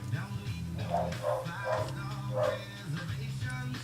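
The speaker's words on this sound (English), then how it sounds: "as my dogs start barking in the background." Several dogs bark in the background during a Jeep JK build in a garage, with a few short bursts at moderate distance behind steady low hum and faint talk.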